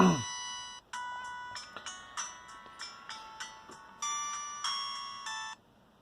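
A mobile phone powers on with a bright electronic startup melody: a run of short, clipped synthetic tones in an uneven rhythm lasting several seconds, close and clear over a quiet room.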